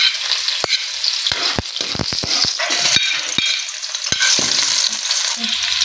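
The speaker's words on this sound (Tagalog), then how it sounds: "Pa-brownin po muna natin yung bawang tsaka sibuyas mga ka-sisters para mabango po" Garlic and onion sizzling steadily in hot oil for escabeche, loud and close, with sharp utensil clicks and scraping from stirring over the constant frying hiss.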